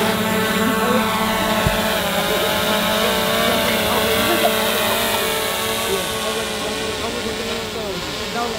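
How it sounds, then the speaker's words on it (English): Drone hovering outdoors at a park during a total solar eclipse, a steady whining propeller drone with layered tonal buzz and hiss, continuous and fairly loud, with faint crowd voices underneath. "Time to fly my drone and then just pretty much leave it in the sky."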